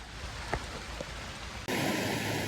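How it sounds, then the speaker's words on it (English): Heavy pouring rain falls on a tiny house build site as a dense, continuous hiss, with a few faint knocks early on before the roar abruptly grows louder and brighter. "Look, it's pouring now."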